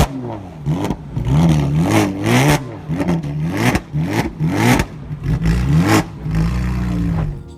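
Porsche Cayman widebody with a Fab Speed straight pipe exhaust revving hard in repeated loud bursts, each blip rising and falling in pitch between short pauses, very close and aggressive.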